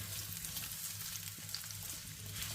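Chopped garlic frying in a pan for chilli chicken gives off a soft, steady sizzle with faint crackles and a low hum underneath, quiet and continuous with no voices.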